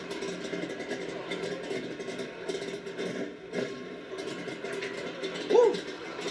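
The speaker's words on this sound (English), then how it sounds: "I love to hear a car talk to full exhaust." Chevrolet Monte Carlo SS race car running full exhaust, revving with a throaty, fluctuating mid-range engine note that rises and falls at moderate distance, with a sharper spike near the end and talking over it.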